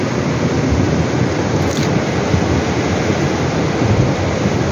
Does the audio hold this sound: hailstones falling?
yes